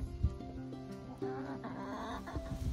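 Backyard chickens cluck in short, irregular bursts at close range, with scattered calls and light background noise and no talk.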